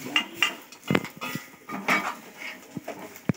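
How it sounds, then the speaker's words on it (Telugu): A metal spatula or spoon scrapes and clinks against a pan while drumstick leaves are stirred in a little oil, producing irregular close taps and scrapes with short pauses between strokes. "కొంచెం ఆయిల్ వేసుకొని తొందరగా కలిపేసుకోవాలి."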